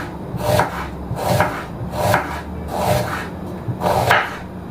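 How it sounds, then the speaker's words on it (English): A knife slices onions into rings on a board, six crisp chopping strokes at a steady, roughly even pace, close and clear with no talk. "show you how to cut up these onions"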